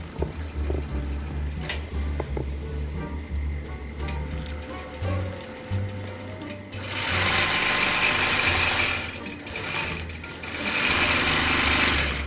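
A longarm quilting machine stitches a quilt with a steady, fast mechanical whir, close and continuous, rising in intensity during the latter half with no talking.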